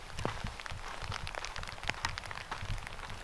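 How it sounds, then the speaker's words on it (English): Hail coming down outdoors at the onset of a snowstorm, a dense scatter of sharp, irregular ticks and taps striking nearby surfaces, close and steady with no voices. "Just began hailing."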